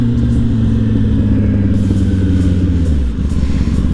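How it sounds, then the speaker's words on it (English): A Kawasaki ZX-10R motorcycle idles in traffic with a loud, steady low rumble and a slight shift in pitch near the end, heard close and alone. "I enjoy the sound of my 10R so much over the sound of an S1K"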